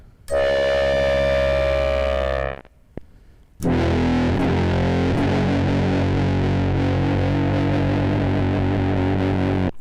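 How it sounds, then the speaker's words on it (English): Heavily distorted electric guitar through a quad comparator, a buzzing sustained note that cuts off, then after a short pause a thick, gritty distorted chord rings on loudly. "the distortion is turning this guitar signal into kind of like a pulse"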